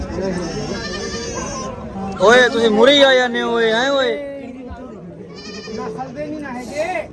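A goat bleats in a few wavering calls on a rural Punjabi farm, mixed in with people talking and shouting nearby.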